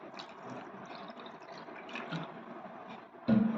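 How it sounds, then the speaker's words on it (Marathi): Cold water poured into a jaggery lemon drink, a soft, steady trickle and splash that swells with a louder gush near the end, no voices. "आता थंड पाणी टाकूया त्याच्यात."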